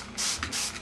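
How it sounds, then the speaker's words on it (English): Two quick hissing spritzes of glass cleaner from a spray bottle onto a rag, close by, with a brief soft rustle between them. "Spraying it on the rag first."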